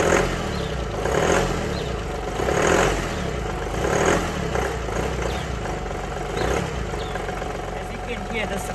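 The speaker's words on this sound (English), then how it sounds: "So now I'm going to start up this car so you can hear how loud it is" A VW Polo TDI diesel car engine running with a steady mid-pitched rumble and periodic swells as it revs, close and fairly loud, with a voice talking over it.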